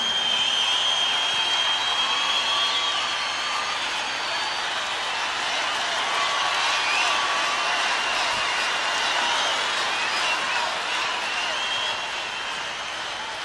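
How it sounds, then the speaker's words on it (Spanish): A big crowd's sustained applause for a singer, a dense, loud, even roar of clapping that carries on unbroken, with a faint tone running through it. "Tenemos que darle un fuerte aplauso para que escuchen Camarines."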